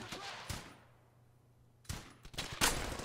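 Gunfire in the World War II video game Brothers in Arms: Hell's Highway, a few sharp, loud shots separated by a quiet lull, the last ones close together.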